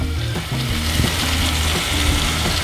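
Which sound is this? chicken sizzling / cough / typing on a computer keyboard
chicken sizzling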